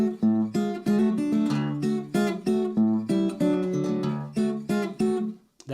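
An acoustic guitar is picked hard in a strummed, rhythmic pattern of bright, ringing chords, loud and close, played alone without any voice.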